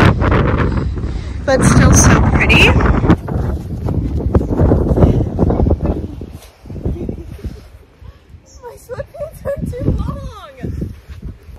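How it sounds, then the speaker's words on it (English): Strong wind buffets the microphone on a cloudy Cape Cod beach at night, a loud, rough roar that eases toward the end while a person talks over it. "It's a bit of a cloudy, windy beach night"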